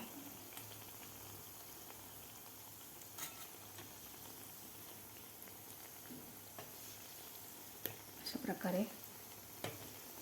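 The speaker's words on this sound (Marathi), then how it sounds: "एक बॅच तळायला आपल्याला सहा ते सात मिनिट लागतात बालुशाही" Balushahi fry in a batch of hot oil, a low steady sizzle and faint bubbling that runs throughout, with a few louder clinks and stirring scrapes near the end, quiet and close.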